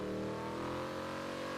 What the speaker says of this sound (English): we have a lot of custom car sounds.